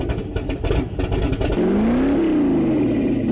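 A turbocharged, LS-swapped Mazda Miata cranks with rapid clattering and catches, then idles loudly and rises in a couple of short revs that settle into a steady, close drone; no one speaks.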